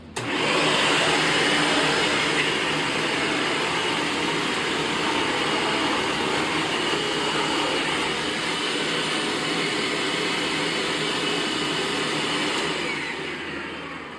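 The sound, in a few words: bagged canister vacuum cleaner running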